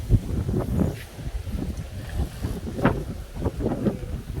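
Strong night wind in the cold dry season gusts and buffets the microphone in a steady, rough rumble that swells and eases in repeated surges, with no talking.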